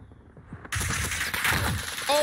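Gunfire from the Call of Duty Warzone video game, a burst of rapid automatic shots and loud bangs that starts abruptly and keeps going, with game effects and faint voice chatter underneath.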